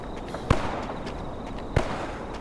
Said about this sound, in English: Wow, that gunfire is right there.